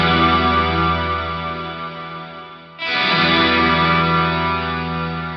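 A guitar through an Eventide H90 rings out with chorus and reverb, a sustained shimmering chord that decays, then a second strum enters loudly and lingers with a wavering, modulated tail.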